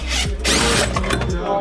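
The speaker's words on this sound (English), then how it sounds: "The next thing that we're gonna do is we're gonna loosen this bolt over there." A power tool whirs and buzzes in short, loud bursts while loosening a bolt on a car suspension during a coilover installation, recorded up close.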